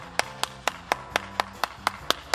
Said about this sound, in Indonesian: Tepuk tangan dulu dong buat Tuhan kita.